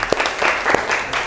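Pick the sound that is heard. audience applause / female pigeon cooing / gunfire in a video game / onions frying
audience applause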